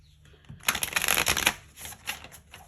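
Tarot cards being shuffled and pulled from a deck, a close, dense burst of rapid riffling and flicking for about a second, followed by a few softer card slides and taps.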